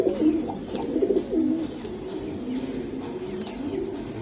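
Giribaj racing pigeons coo close by in low, rolling phrases that repeat over a soft background hum.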